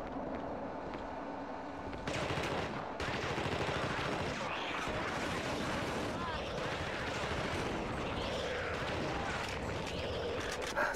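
Gunfire in The Thing video game: rapid machine-gun bursts and repeated shots crackle close and loud, with voices talking underneath.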